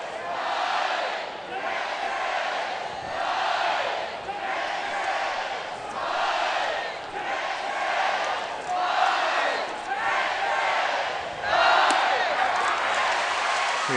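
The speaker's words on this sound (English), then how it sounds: "Here the Texas fans in the background cheering, trying to inspire their Texas Longhorns" Texas Longhorns fans cheering in the stands at a college baseball game, a loud crowd roaring and yelling in rolling waves throughout.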